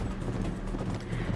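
Horse hooves clip-clop at a steady trot in Uncharted 3: Drake's Deception, a continuous low rhythmic thudding that holds even and fairly close throughout with no voices.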